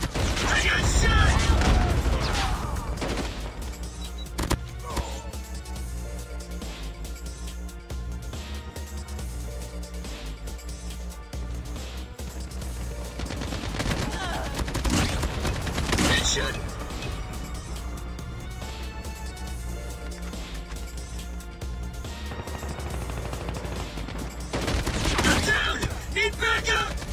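Gunfire in the mobile shooter Call of Duty Mobile, Cranked mode: dense bursts of shots and booms over a continuous game soundtrack, loud throughout with a louder stretch near the end, while a player talks.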